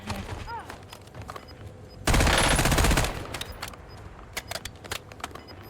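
A dense burst of automatic gunfire in a Warzone match lasts about a second, loud against a backdrop of scattered game noises and sharp clicks.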